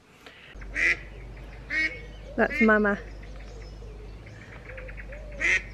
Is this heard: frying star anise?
no